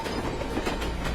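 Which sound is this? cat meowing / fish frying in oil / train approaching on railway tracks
train approaching on railway tracks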